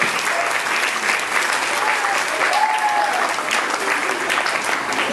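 Children at a school clapping for a group, with a sustained, dense burst of applause from a roomful of kids and a faint voice underneath.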